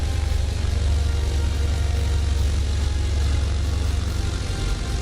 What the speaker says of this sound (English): The aircraft really wants to taxi on its own power here.